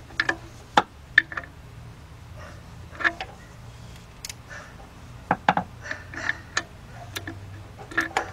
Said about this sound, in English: there's an opening for a 3/8 drive ratchet